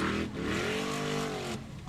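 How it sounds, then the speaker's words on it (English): An off-road formula buggy on Super Scooper tires at an Icelandic Formula Offroad event revs hard while its wheels spin for grip, a loud, continuous engine roar rising and falling in pitch, with no talk. "The front wheels are spinning."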